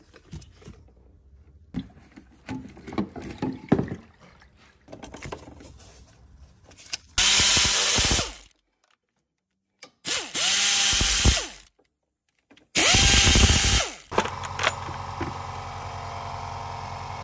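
A power tool drills in three sharp, whining bursts separated by silences, removing the rocker cover from a Ford 1.25–1.6 Zetec engine, with earlier rattling and clinking of parts being handled between runs.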